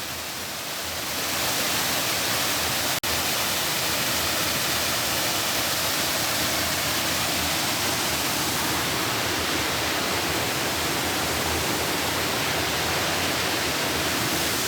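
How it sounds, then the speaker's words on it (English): A waterfall beside an old mine adit roars as a dense, steady rush of falling water close by, with a single sharp click early on. "This one's great, and next to a beautiful waterfall."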